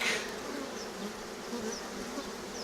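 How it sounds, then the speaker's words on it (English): Aggressive honey bees buzz around a beehive in a dense, steady drone, close and continuous, with individual bees passing near and a few whining tones rising above the swarm. "this hive is really aggressive. It's constantly been at my face since I got here"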